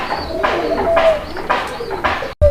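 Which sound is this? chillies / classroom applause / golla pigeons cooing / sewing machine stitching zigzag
golla pigeons cooing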